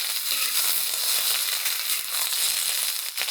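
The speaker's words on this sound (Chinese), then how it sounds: "先把蒜头爆一下，荷兰豆再进锅翻炒几下" Snow peas and garlic stir-fried in hot oil in a wok, a loud, dense crackling sizzle that holds steady throughout, with a brief scrape near the end.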